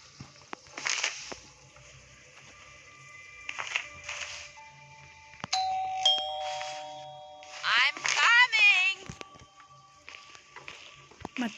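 A school bell rings in a school-boy escape video game, giving bright tonal chimes among clanks and metallic dings. Voices talk between the sounds.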